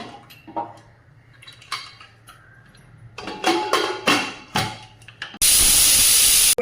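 Metal pans clatter and clink a few times, then a pressure cooker cooking carrot halwa lets out a loud, sustained steam whistle that cuts off abruptly.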